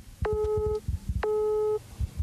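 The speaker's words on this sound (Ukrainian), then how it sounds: "у вихідний день його телефон постійно зайнятий, наче заблокований." A telephone busy signal beeps twice, each tone lasting about half a second with a pause between, loud and close, with a third beep starting at the end and a low background rumble underneath.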